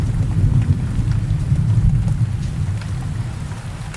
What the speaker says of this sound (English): the rain pattering down